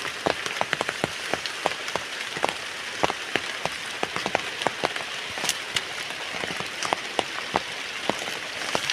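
Steady rain falls outdoors in the Philippines, pattering on surfaces with many sharp, close drops ticking irregularly over a constant hiss, no voices.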